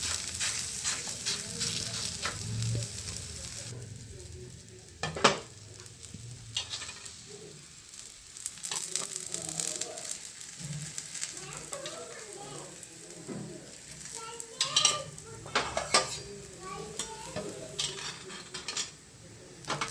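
Thalipeeth flatbread cooking with oil on a hot griddle, a soft continuous sizzle with intermittent scraping and clinking of a utensil against the pan, fairly faint throughout.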